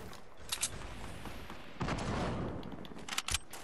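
Gunfire in the video game Fortnite, scattered sharp shots followed by a denser burst of rapid firing, moderately distant and fairly quiet, with no talking.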